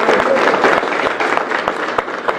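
An audience in a Tamil wedding or event hall claps loudly and continuously, a dense wash of many hands with sharp individual claps standing out throughout.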